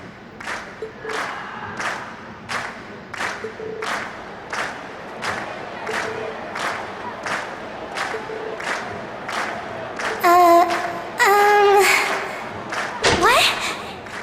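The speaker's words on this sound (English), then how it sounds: "we've heard your cheers loud and clear" A crowd at a concert in the video game Trails of Cold Steel: regular rhythmic thumps like stomping or clapping repeat steadily, followed near the end by loud, bursting shouts and cheers.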